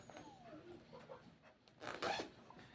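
A clothing zipper is drawn shut in one quick rasping pull near the end, after quieter rustling and handling noises, with no voices.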